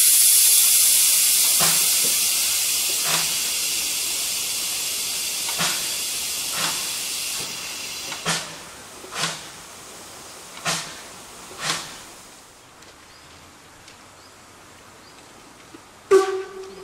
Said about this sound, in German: Am Bahnsteig angekommen, wartet doch die obligatorische Bremsprobe, bevor die 650 PS starke Dampflok den Weg nach Ochsenhausen antreten kann.